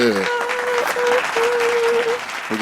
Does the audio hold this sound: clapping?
yes